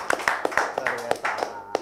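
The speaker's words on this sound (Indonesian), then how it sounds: "Tepuk tangan lu dong" A few people clap at an Indonesian talk-show event, giving sharp, uneven claps in a loose rhythm for under two seconds, with murmuring voices underneath.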